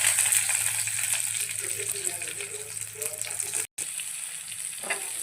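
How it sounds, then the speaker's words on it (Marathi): Garlic and green chillies fry in a pan with a steady, dense sizzle and crackle that runs nearly unbroken, with a brief cut near the end. "लसूण चांगला भाजला की त्याच्यामध्ये आपण मिरची टाकून देऊया."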